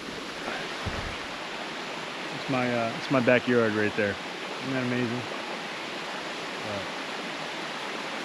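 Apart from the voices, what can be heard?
flowing creek water on the Appalachian Trail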